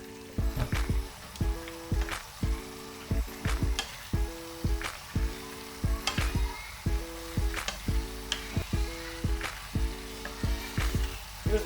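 Pasta is stirred into a garlic, oregano and capsicum sauce in a frying pan for chicken pasta, with regular scraping strokes about once a second, each carrying a squeaky tonal scrape and clicks, over a soft low sizzle.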